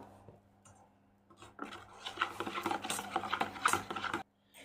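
Chitoi pitha batter being mixed by hand in a bowl, a close, quiet stretch that gives way to busy wet rubbing and squelching strokes, which stop abruptly at the end.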